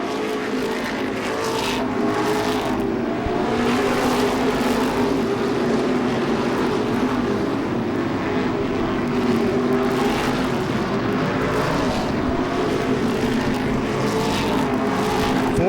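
Modified race cars roar around the Seekonk Speedway oval during a Modified Racing Series event, a loud continuous engine drone that swells and fades as the pack circles the track.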